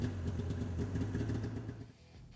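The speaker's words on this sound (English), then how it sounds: "Finally, start the engine to ensure proper operation." A 2019+ Polaris Indy EVO snowmobile engine idles with a low, uneven putter, close by, then dies down at the end.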